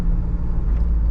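A second-generation Toyota 4Runner with a manual gearbox drives through a neighborhood, heard from inside as a loud, steady low engine and road rumble.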